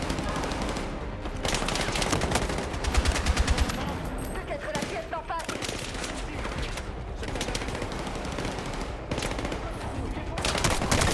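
Sustained gunfire in the Battlefield 6 solo campaign at Gibraltar, rapid machine-gun bursts and shots hammering almost continuously, loud and dense, with a player's voice now and then beneath the fire.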